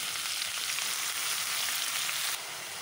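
Chopped spring onion greens fry in hot oil in a pan with cumin, green chilli, garlic and curry leaves, giving a steady, loud, close sizzle that runs without a break and eases slightly near the end.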